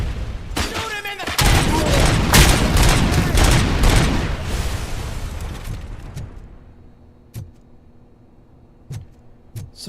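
Gunfire in Robocop: Rogue City, a dense loud burst of rapid shots and impacts lasting several seconds, then fading to a few isolated distant cracks; a voice speaks briefly.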